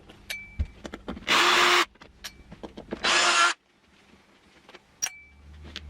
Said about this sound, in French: Bon, je retire toutes les vis, on se retrouve après.